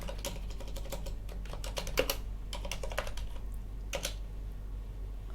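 Rapid typing on a computer keyboard set to an Azerty layout, with irregular bursts of close, crisp key clicks and brief pauses between runs, no voices.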